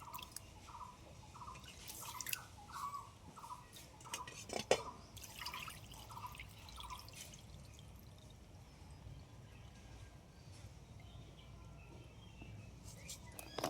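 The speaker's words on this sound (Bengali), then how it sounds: "চাল ধোয়া কিন্তু আমার হয়ে গেছে।" Faint splashing and dripping of rice being washed in water in a home kitchen, soft repeated sloshes early on over steady background noise, with no one talking.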